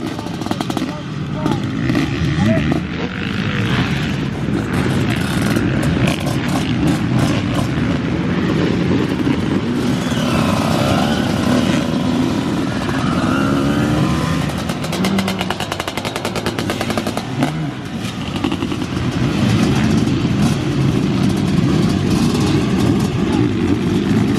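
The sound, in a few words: two-stroke motocross engine roar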